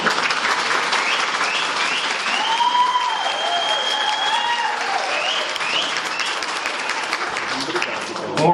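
Sustained audience applause fills the whole stretch, a dense continuous wash of clapping hands at steady loudness, with a few faint voices mixed into the crowd noise.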